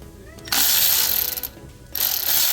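A ratchet with an 8mm socket loosens an inverted Torx bolt on a Mercedes C-Class W204 during front brake service. Two bursts of rapid, crisp clicking are separated by a short pause, close up.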